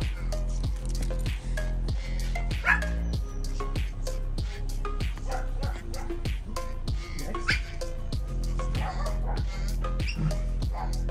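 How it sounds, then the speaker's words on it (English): Several dogs barking repeatedly in the background during work on a Mazda MX5 build, sharp irregular barks and yips forming a steady rhythmic stream at moderate distance, with occasional faint talk. "Don't mind the dogs barking in the background."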